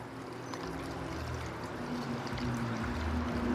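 Homebrewed IPA wort poured through a strainer, a continuous close splashing, trickling pour that grows slightly louder over a few seconds.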